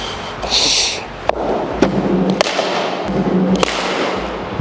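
A cricket ball strikes a vintage cricket bat outdoors, producing several sharp, distinct cracks and thwacks spaced about a second apart over a steady background hiss.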